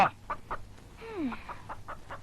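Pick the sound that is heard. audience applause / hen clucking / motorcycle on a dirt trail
hen clucking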